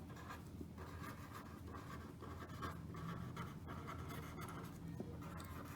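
Pen or marker writing by hand during a geometry lesson on rhombus properties, a soft steady scratching stroke after stroke, faint and close, with no speech.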